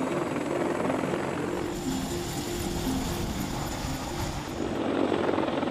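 A CH-53 King Stallion heavy-lift cargo helicopter gives a continuous loud rotor and turbine drone with a steady low hum, heard alone without speech.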